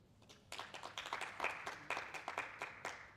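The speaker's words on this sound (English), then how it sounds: "Please have a round of applause." Applause from a seminar audience for an investing mentor, a dense patter of many hands that starts abruptly after a short lull and stays steady and fairly close.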